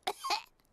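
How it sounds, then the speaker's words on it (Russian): A cartoon pig coughs twice in quick succession, two short, close, dry bursts with no other sound around them. "У меня кашель."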